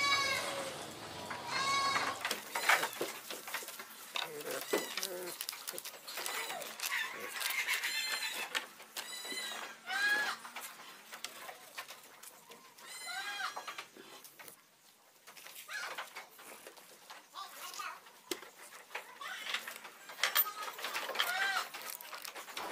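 Goats on a goat farm, around twenty adults with their kids, bleat repeatedly in a busy overlapping chorus, some near and some farther off, with poultry clucking mixed in and no clear talk.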